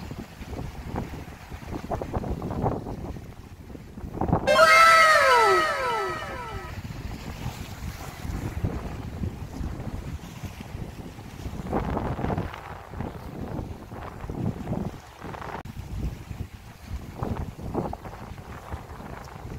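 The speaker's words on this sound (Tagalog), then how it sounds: "nung tunog ng hangin sa dagat" Wind over the sea near a coastal sea cave at Coloane, Macau, a steady rushing roar with gusty surges and crashing surf, plus a brief whistling squeal and occasional distant voices.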